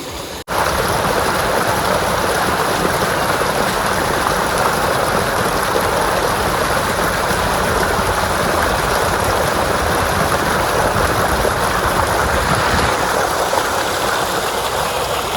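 A farm tube-well motor pump gushes water in a loud, constant rushing torrent close by, with the pump's low hum blended underneath and no pauses.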